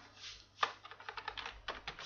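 Close keystrokes tap out Java code on a computer keyboard in a quick, uneven run of clicks with one sharper key strike, set against a faint steady hum.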